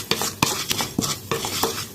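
Nylon sago frying gently in ghee over a low flame, a soft sizzle broken by repeated sharp scrapes and clinks of a spoon stirring against the pan, about seven strokes at an even rhythm.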